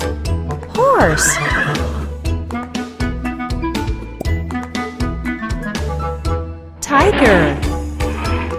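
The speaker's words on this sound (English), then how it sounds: "Horse." A horse neighs loudly and close by, once near the start and again near the end, over a bouncy rhythmic backing track with light jingling.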